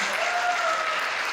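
An audience at an MSME business convention applauds in a dense, steady burst of clapping, close and even throughout, with a faint tone running beneath it.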